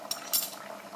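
A spoon stirs tabil spice, caraway, tomato and harissa together in a cooking pot for Tunisian hlalem soup, with two quick metallic clinks early on over a soft scraping swirl.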